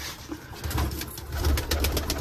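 Pigeons coo on a rooftop, a steady run of soft, low, throaty calls repeating close by over faint outdoor background noise.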